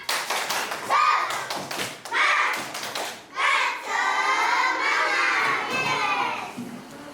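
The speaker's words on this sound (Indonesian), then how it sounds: "Coba tepuk semangat dulu." A class of young children performs a rhythmic clapping chant in bursts, claps and shouted voices alternating over about seven seconds, close and lively in a classroom.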